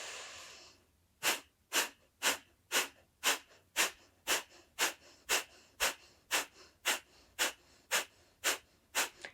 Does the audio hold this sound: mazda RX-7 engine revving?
no